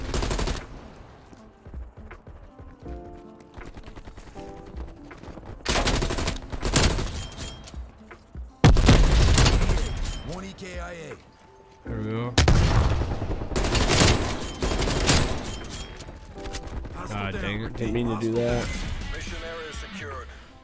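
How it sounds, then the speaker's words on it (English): Automatic gunfire in Black Ops Cold War: several loud bursts of rapid shots with crashes and impacts, coming in clustered volleys over a player talking throughout. "I'm literally getting shot wherever I go."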